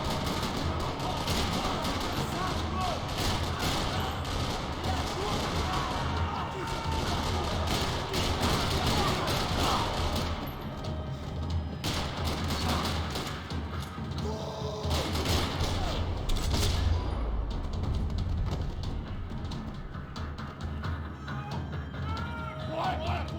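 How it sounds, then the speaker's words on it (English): Gunfire rattles through a parking lot in the Max Payne 3 video game, a dense, continuous barrage of shots and booms with mechanical clatter. "Another parking lot rattling with gunfire."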